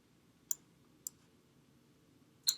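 Three crisp, isolated computer mouse clicks, two close together and one a beat later, sound over a quiet, faint background hiss.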